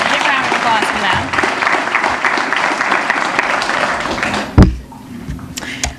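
A banquet audience of hospital volunteers and staff breaks into a round of applause, full and even for several seconds before stopping abruptly, leaving a quiet room with a few scattered claps.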